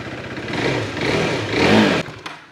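A restored KTM RC 390 motorcycle engine starts up nearby with a rising, revving roar. It settles into a rough idle, and a few clattering clicks follow as it quiets.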